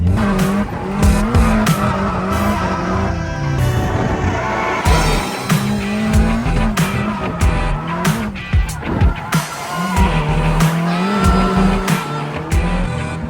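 A drift car's tires squeal in long, loud bursts from the passenger seat as the engine revs and roars through slides, with sharp transient knocks mixed in.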